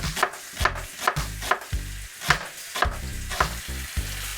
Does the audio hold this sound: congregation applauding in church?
no